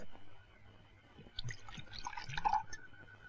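A drink splashes into a glass during a scene from the 1982 Hindi film Baghavat: a faint, brief liquid pour with dripping and trickling over low background hum, without speech.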